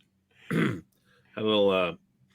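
Two short throat-clearing bursts, a gravelly rasp followed by a longer, strained, honking clear, close and fairly loud in a quiet room.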